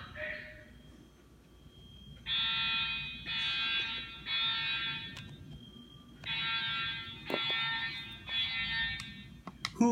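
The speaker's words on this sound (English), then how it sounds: "The alarm sound." A shrill electronic alarm sounds in repeated buzzing bursts, groups of three with short gaps, fairly close, with faint clicks between.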